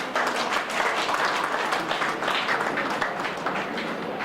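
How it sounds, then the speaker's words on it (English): Steady applause from a crowd at a college convocation and prize distribution ceremony, a dense even roar of clapping lasting throughout with no talk over it. "So first of all, a very big applaud"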